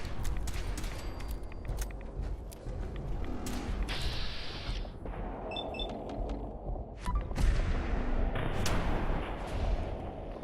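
Gunfire in the video game Fallout 4 cracks out in a dense, loud barrage over a constant din of explosions and mechanical game noise, with several sharp reports standing out near the end.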